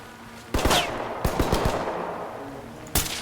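Gunfire in the tactical shooter game Ready or Not, with several sharp reports in quick clusters over steady background ambience, the shots loud but not aimed at the listener.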